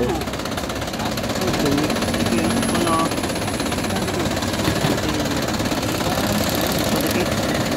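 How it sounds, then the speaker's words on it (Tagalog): An Isuzu 4BC2 diesel truck engine idles roughly and loudly, shaking with a steady rattling knock throughout, with faint voices in the background. "sobrang katal ng kanyang makina"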